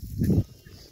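A long-tailed sheep in a Rabari herders' flock in Chhattisgarh gives one short, close bleat, followed by quiet open-air background.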